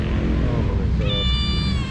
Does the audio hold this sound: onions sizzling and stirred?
no